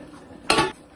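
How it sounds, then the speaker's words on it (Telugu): A metal lid set onto a pan of tomatoes in a kitchen during tomato egg curry cooking: one short, close clatter lasting about a quarter second. "ఇప్పుడు దాంట్లో టమాటా వేసేద్దాం. కాసేపు మూత పెట్టుకుందాం."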